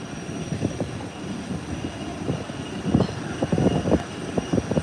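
A United airliner rolls down the runway at takeoff, its engine noise a steady broadband roar heard from a distance with rumbling, slightly swelling pulses.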